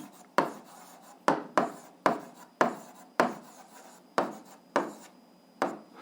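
Pen writing on paper while an algebra equation is worked out, a run of short scratchy strokes in an irregular rhythm, close and fairly quiet with no talk.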